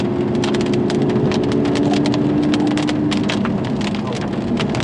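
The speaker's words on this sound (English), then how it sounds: "it's absolutely chucking it down with rain" Heavy rain drums steadily on a 2016 Audi R8 V10 Plus while driving, a dense patter of close drops with a low droning hum underneath.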